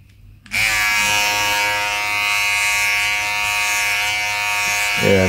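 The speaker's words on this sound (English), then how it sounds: "what I'm going to do is trim first with the trimmer without a comb" Philips 7000 BodyGroom trimmer running without a comb while trimming body hair, switching on after a brief pause and then buzzing loudly and steadily at close range for several seconds.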